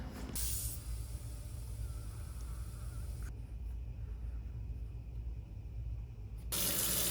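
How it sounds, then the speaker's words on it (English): Water rushes through a house's plumbing as the main supply is turned back on after work on a water heater mixing valve and expansion tank, a steady loud hiss with a brief sharper burst near the start and again at the end. "Now to turn the main water on back to the house and test all of these repairs."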